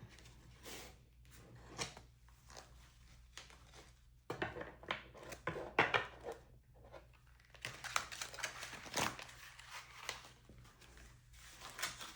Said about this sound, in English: I'm not used to shuffling with nails.